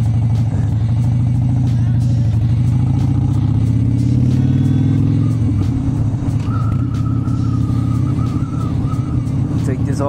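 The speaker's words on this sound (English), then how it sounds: "It's a nice car." A car engine revs and rumbles loudly at close range at a Born Free show, a deep steady roar that shifts pitch and settles into a lower idle, with a faint higher tone emerging later.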